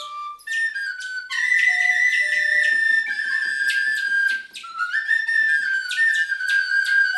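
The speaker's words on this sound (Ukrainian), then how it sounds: "В даному випадку це може бути свистулька" Clay toy whistle blown in a series of shrill, warbling notes. Pitch steps up and down, with short pulsing trills, loud and close, with no talk.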